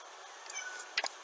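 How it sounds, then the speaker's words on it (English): A couple of short, faint meows from a cat over quiet room noise near the end. "If you hear something meowing in the background,"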